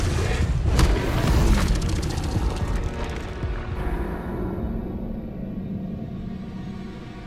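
Confringo explosion spell in Hogwarts Legacy, a heavy booming blast with sharp crackling impacts up front that rumbles and slowly fades into a low lingering hum.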